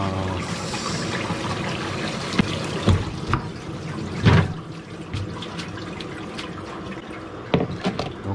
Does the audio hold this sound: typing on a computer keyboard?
no